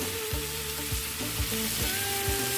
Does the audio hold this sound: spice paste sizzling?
yes